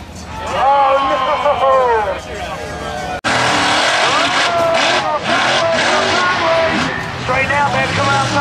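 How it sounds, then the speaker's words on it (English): A mega race truck in an unlimited-class race roars at full throttle, its engine revving hard and rising in pitch, loud and close throughout, with excited shouting and cheering over it. "This is his race truck."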